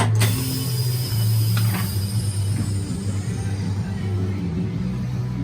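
A tire changer machine working a tire onto its rim gives a steady mechanical rumble with a low hum, fairly close and continuous, with faint clanks and no talk over it.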